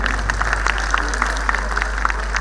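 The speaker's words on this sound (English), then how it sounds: "Big round of applause for you." Steady clapping from a student audience at a conclave, a dense patter of many hands that holds at an even level throughout.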